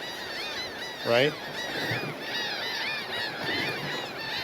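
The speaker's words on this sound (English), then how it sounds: "Wave hi to the seagulls." Seagulls call again and again at a beach along an Aruba shoreline walk, their cries overlapping at middling distance under constant surf and wind, with a brief voice in between.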